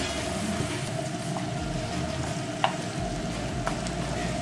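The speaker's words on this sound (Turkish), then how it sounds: "Salçamız da kavrulurken arkadaşlar şöyle bir yemek kaşığı tereyağı ekliyorum" Tomato paste sizzles with a spoonful of butter in a pan for Kayseri yağlaması, a steady broadband frying hiss with a faint hum and a few soft clicks of stirring, close and continuous with no talking.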